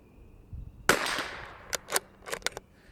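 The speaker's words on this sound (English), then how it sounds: "Might have missed that a little bit on wind and maybe shooting a little high." A single sharp crack from a Bergara BMR X .22LR rimfire rifle, followed by a short echoing tail and a few faint clicks and taps at close range.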